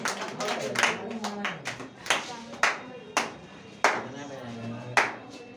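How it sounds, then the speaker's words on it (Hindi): Children and audience at a coaching centre's Children's Day anniversary event clap in welcome, a fairly close, uneven burst of hand claps with sharp individual slaps standing out, some voices mixed in. "ताली के साथ स्वागत करेंगे इनका।"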